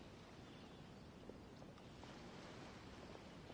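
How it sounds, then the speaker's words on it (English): Ocean waves wash against the harbor in the video game Genshin Impact, a soft, steady surf hiss with some wind, faint and continuous without talk. "Oh, and the sound of the waves."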